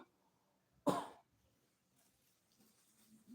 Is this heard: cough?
yes